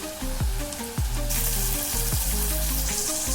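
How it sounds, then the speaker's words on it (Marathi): Ginger and garlic sautéing with onion and tomato in a pan for chicken curry, a steady close sizzle of frying with a few stirring scrapes and no talking. "आलं आणि लसूण याला पण आपण आता कांदा आणि टोमॅटो बरोबर परतून घेऊया"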